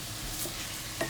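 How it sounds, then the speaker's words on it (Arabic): Onions fry in a pan while being stirred, a soft continuous sizzle with light scraping and a small clink near the end, close and fairly quiet. "نستمروا في التحريك ديال البصل ديالنا"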